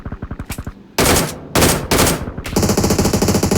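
Rapid automatic gunfire in a battle royale shooter, loud and close, with a fast rattling burst, several dense sustained volleys, then a steady stream of rounds to the end.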